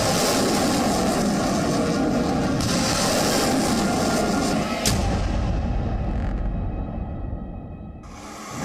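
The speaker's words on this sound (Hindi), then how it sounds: "चीन के लड़ाकू विमान भी आसमान में शोर मचा रहे हैं।" Loud, continuous roar of Chinese fighter jets sweeping overhead, a dense rumble that thins out and fades toward the end as the aircraft pass.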